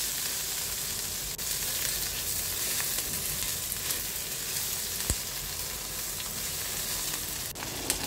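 String beans (sitaw) fry in a large pan, a steady dense sizzle holding evenly throughout, with a few faint utensil scrapes and ticks, no talking.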